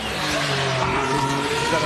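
A Formula E electric race car at the Monaco street circuit whines steadily through a gear change, with a sustained rising electric motor tone, tire noise and faint background voices over the radio.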